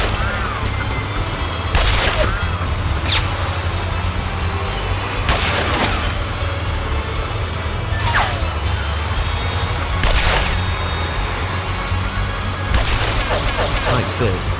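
Rockets and gunfire in the game Lost Horizon: sharp, scattered blasts and cracks at irregular intervals over a constant low rumble, fairly loud with no clear talk.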